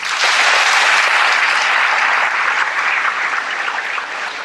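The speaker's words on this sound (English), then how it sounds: "So let's give them a round of applause." A school commencement audience gives a loud, sustained round of applause, dense clapping from a large crowd that holds steady and eases off only slightly toward the end.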